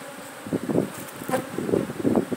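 Bees buzzing around a hive box during beekeeping work, a loud, close, wavering drone that swells in pulses over a low rustle, with no voices.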